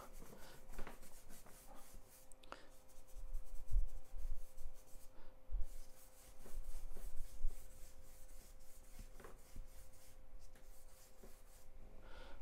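Oil pastel scrubbed onto paper during a tutorial gives a steady, continuous dry rubbing and scratching texture, close and moderately loud, with brief strokes repeating throughout.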